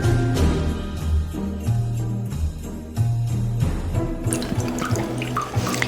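Rum-soaked fruit for a Christmas plum cake is strained, and its juice pours and trickles steadily into a container with splashy, dripping liquid sounds and light clinks, loud and close throughout, with no talking.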